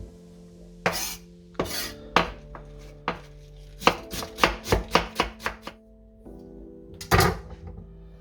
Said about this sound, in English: I prefer to cut it by hand.